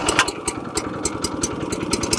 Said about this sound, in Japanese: エンジンかけて。 これチョークして。